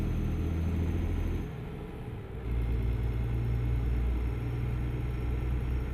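Heavy MAN Lion's Coach bus engine from Euro Truck Simulator 2 rumbling and building up as it accelerates, with a short dip in level before the deep, steady drone returns strongly and stays loud throughout.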